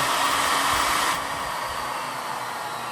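A steady, smooth high-pitched whirring hum from a spinning two-stage bladeless disc turbine, briefly louder at first and then settling to a softer, even whine.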